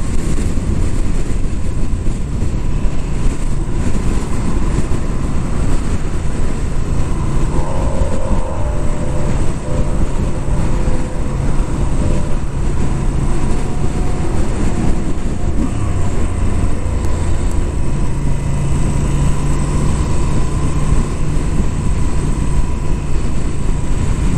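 A 2022 Moto Guzzi V7 850 Special V-twin on the move gives a steady, loud engine drone mixed with heavy wind rush, holding a constant note throughout with slight pitch shifts as it rides past a cloverleaf interchange.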